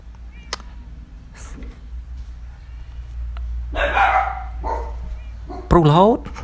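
A dog barking in the Minecraft video game, several short yips and barks scattered over a steady background hum, with one louder bark near the end.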